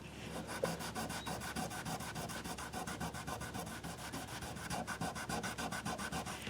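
Folded 1100-1200 grit sandpaper rubs across the frets of a Japanese Univox guitar fitted with a fretboard guard, giving steady, close, rhythmic scratchy strokes with no talking.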